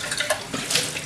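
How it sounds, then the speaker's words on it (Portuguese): Tap water running from a faucet at a moderate, steady flow for rinsing, a continuous close splashing hiss with no talk. "Importante que a gente não abra a torneira muito, podemos colocar um fluxo médio"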